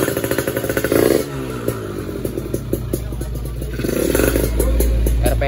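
A motorcycle engine fitted with a Superbooster RS1 grounding kit starts and settles into a close, loud idle with throttle blips and mechanical clatter, running continuously.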